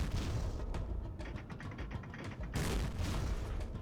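Cannon fire in the pirate video game Pirates: Legend of the Black Buccaneer, heard as a dense rumbling barrage of booms and blasts that carries on continuously with no talking.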